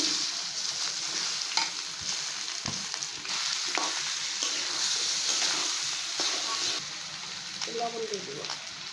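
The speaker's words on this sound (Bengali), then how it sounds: "এখন চালটা দিয়ে দিলাম।" Rice fried with onions in a hot wok gives a continuous sizzle, with a spatula scraping and tapping at irregular moments throughout, close and moderately loud, and a voice briefly heard near the end.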